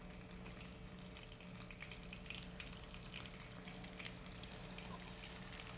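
Food fries in plenty of oil in a pan, giving a steady, faint crackling sizzle with small pops scattered throughout and a low background hum.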